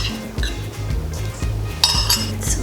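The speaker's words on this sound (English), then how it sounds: "I'm gonna put this over into a serving dish and serve this up" Enchilada casserole being moved from a pot into a serving dish: close, repeated clinks and scrapes of a utensil against cookware, coming in steady strokes with a few sharper knocks, and no talking.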